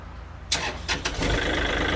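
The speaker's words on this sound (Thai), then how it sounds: "เครื่องสตาร์ทติดง่ายนะครับ เสียงเครื่องปกตินะครับ" A Kubota L4018SP tractor's diesel engine cranks with a few sharp bursts, catches, and settles into a steady running rumble nearby.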